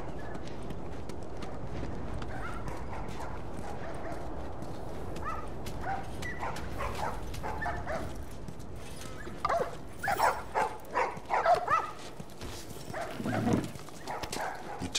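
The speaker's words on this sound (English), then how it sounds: "You got a happy puppy, Tess." A dog barks in short bursts in The Last of Us Remastered video game, rising over a low game soundscape with faint background voices.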